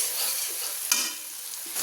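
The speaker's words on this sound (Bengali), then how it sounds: "দেখুন আমি তেলের মধ্যেই কিন্তু মশলাটা কষিয়ে নিয়েছি, সুন্দর করে কষিয়ে নিয়েছি" Masala spices frying in oil for a cabbage and chicken curry, a steady close sizzle with soft stirring scrapes and one brief sharper clink partway through, with no talking.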